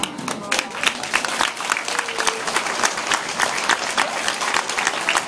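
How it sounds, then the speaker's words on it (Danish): Audience at a stage show in Lalandia applauds loudly in a dense, steady wash of clapping that lasts throughout, with a faint voice briefly audible beneath it. "så klapper alle en gang mere rigtig højt"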